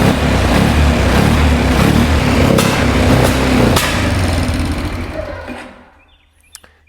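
A free four-wheeler's engine runs rich just after carb tuning, roaring loud and steady up close for about four seconds, then winding down and dying out, followed by a faint click.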